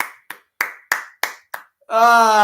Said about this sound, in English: There you go, Taylor Hall. Round of applause.